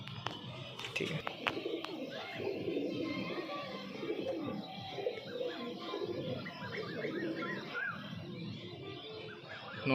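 A male Madras pigeon coos repeatedly at close range amid a busy, murmuring backdrop of other birds and faint household noise.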